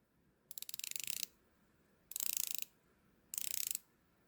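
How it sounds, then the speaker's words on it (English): Three quick bursts of crisp, rapid ratcheting clicks come from the turning bezel of an Omega Planet Ocean watch. They are close and clean, with short pauses between them against a quiet background. "how the bezel clicks sound"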